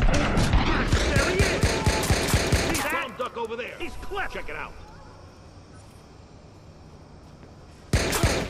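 Gunfire in the video game Watch Dogs, rapid automatic bursts for about three seconds, then scattered shots and softer game noise before another loud burst at the end, close and dense under occasional voices.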